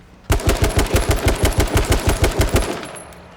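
Automatic gunfire in the battle royale game H1Z1 King of the Kill: a loud, close burst of about fifteen evenly spaced rapid shots, then a short fading tail.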